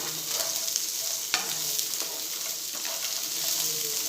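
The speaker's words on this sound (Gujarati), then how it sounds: "કાંદાને પણ આપણે ચતરી લઈશું ગેસ આપણે સ્લો જ રાખીશું" Sliced onions sauté over a low flame in a pan, giving a continuous soft sizzle with light stirring scrapes and an occasional spatula tap. Close and steady, with no one talking.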